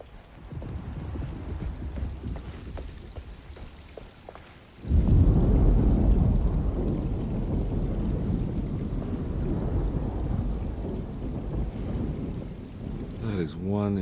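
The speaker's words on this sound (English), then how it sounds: "Just keeping an eye out for the storm." Heavy rain pours down after a sudden loud onset, a dense steady roar that may carry thunder, continuing alone with no talk until a brief tonal sweep at the end.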